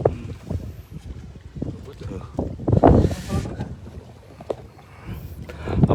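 Strong wind buffets the microphone at the sea beside a harbour channel, a heavy gusty rumble with water and boat noise mixed in, swelling and easing throughout.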